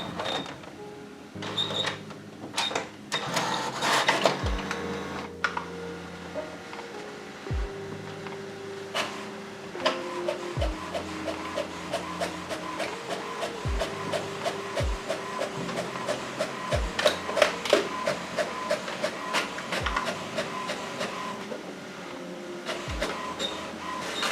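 An HP Smart Tank inkjet printer runs a duplex copy through its document feeder, with repeated mechanical whirs, clicks and sharp thuds from paper handling and carriage movement, fairly close and steady across the clip, no talking.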